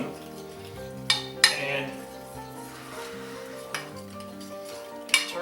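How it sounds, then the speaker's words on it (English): Egg yolks are stirred in a bowl for chile rellenos, giving a few sharp utensil clinks against the bowl over a steady background while a person talks throughout. "I'm going to take these egg yolks and mix them"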